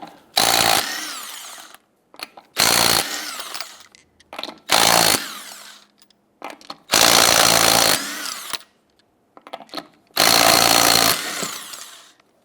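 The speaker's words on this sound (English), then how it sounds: "go ahead, loosen and remove your lug nuts." Impact tool with a 19mm socket loosening the lug nuts on a 1997–2006 Jeep Wrangler wheel: five loud, close bursts of harsh rattling hammering, each about a second long, separated by short quiet gaps and faint clinks.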